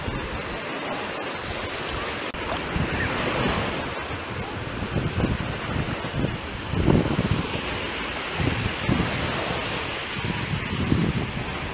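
Large waves break on a shallow beach at Prodmash in Odessa, a loud, continuous roar of surf with repeated crashing surges and strong wind buffeting the microphone, with no voices.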